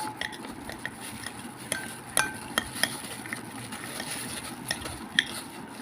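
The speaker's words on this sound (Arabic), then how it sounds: "هقلب كده لحد العسل ما يفك معايا خالص." Quiet spoon stirring glucose syrup into boiling water, with soft scraping and occasional light clinks against the container, no talking.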